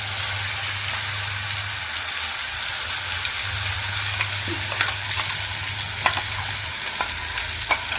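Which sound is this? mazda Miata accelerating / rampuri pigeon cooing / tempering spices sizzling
tempering spices sizzling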